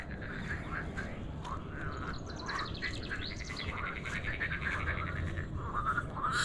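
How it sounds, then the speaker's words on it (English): Lakeside frogs keep up a constant, layered chorus of rapid croaks and chirrups at moderate distance over a steady outdoor hiss, with no voices. "Can you hear those frogs?"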